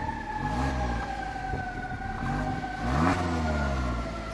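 Stock exhaust on a Toyota Yaris iA revving, a steady engine drone with rising and falling harmonic sweeps as the throttle is blipped several times, fairly close and alone with no voices.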